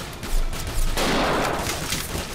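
Rifle gunfire in the dinosaur shooter game Dino D-Day, a burst of loud, sharp shots that swells into a sustained noisy crackle of fire lasting a couple of seconds, with no talking.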